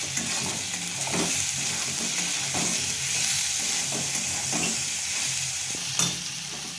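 Fish roe coated in salted batter, seasoned with turmeric, frying steadily in a pan with a continuous close sizzle and occasional stirring scrapes, no voices.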